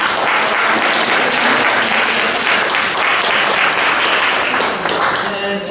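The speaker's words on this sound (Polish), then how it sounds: "Brawa!" A crowd applauds at a museum exhibition opening, steady, dense clapping that fills the room for several seconds, close and loud, with faint voices beneath.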